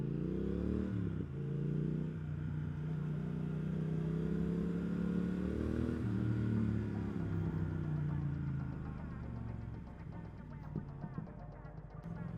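Triumph Speed Twin motorcycle on fresh Metzeler M9 RR tyres, riding at low speed: a steady mid-pitched engine drone that rises and falls gently with throttle changes, with wind and road noise throughout.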